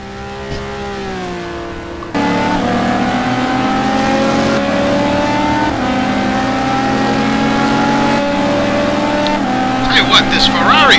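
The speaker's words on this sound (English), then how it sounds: "This Ferrari is showing some incredible straight line speed here" A Ferrari GT2 race car's engine howls at Le Mans in a racing video game, a steady, loud drone that climbs slightly in pitch, with a commentator talking over it throughout.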